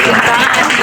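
Audience applause for Sindhu Madam at a Mata Savitri Phule Jayanti celebration stage event, a dense, steady wash of clapping with a voice talking over it.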